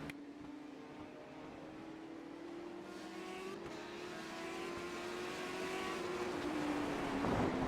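Race cars drive the Charlotte road course in a Legends series event, a steady engine drone rising in pitch and growing louder as they approach.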